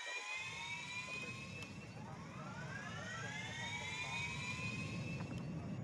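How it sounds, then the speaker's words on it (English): Airbus A380 jet engines spool up in the Airline Commander flight game, a steady rumble with rising, overlapping turbine whines that climb in pitch. "Turn on the engines."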